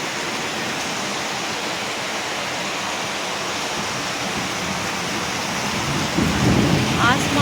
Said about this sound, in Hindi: अभी लगी है बहुत ज़ोरों की बारिश बाहर पे, आप देख सकते हैं।